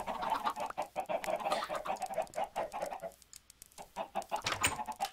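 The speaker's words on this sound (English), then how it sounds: "These chickens are loud." Minecraft chickens cluck repeatedly in a busy, fairly loud stream of short bird calls that pause briefly near the middle before starting again.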